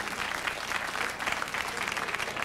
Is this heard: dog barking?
no